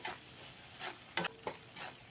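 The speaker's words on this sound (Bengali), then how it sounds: "খুব ভালো করে মিশিয়ে নিয়ে ভেজে নিতে হবে" A steady, soft sizzle of mustard paste frying in a pan for a Bhola fish curry, broken by a few sharp scraping stirs of a spoon against metal.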